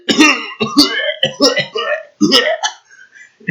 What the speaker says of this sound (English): A cough suddenly convulses her.